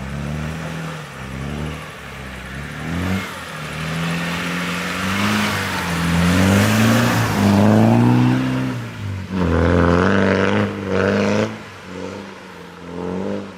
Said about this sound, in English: It's good to get that demand exhaust chirping and get the wheels spinning.